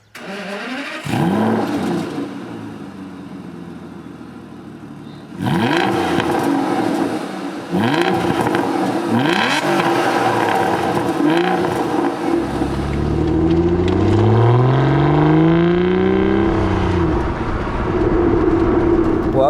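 A powerful V12 Aston Martin DB9 engine starts, then revs and pulls through rising and falling gear changes, a loud, throaty roar heard close up.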